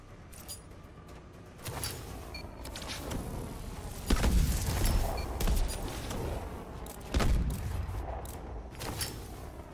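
Grenades go off in the grenade training course of Call of Duty Advanced Warfare. Two heavy, booming blasts land a few seconds apart over a steady bed of game ambience and mechanical clatter.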